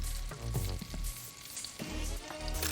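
Meatballs frying in a frying pan, a close, continuous crackling sizzle with bursts of spitting pops and occasional stirring clatter.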